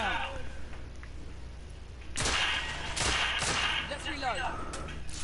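Gunfire in The Order: 1886 on PS4, a few sharp shots cracking in quick succession over a low game backdrop, while a voice talks over it.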